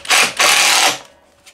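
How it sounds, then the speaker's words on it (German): Two short bursts of a power screwdriver driving screws into stacked plywood boards, loud and close, with a brief pause between them and a faint tail of quiet afterward. "jetzt werde ich die einfach mal eben zusammenschrauben"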